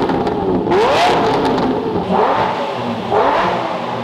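A Lamborghini Aventador Ultimae's 6.2-liter V12 engine revs loudly three times, each rev rising in pitch and falling back, heard nearby with no talking.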